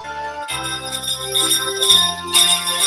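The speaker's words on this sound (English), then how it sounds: "But I had jingle bells to make up for it." Jingle bells ring steadily in a festive arrangement, shimmering bright tones layered over sustained musical notes, loud and continuous with no talking.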